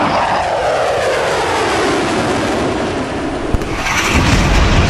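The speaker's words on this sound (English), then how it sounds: "4 engines start to increase at full power." Loud, steady roar of a Singapore Airlines airliner's four engines at full takeoff power, a sustained broadband rush filling the whole clip with a brief thump near the end, no voices.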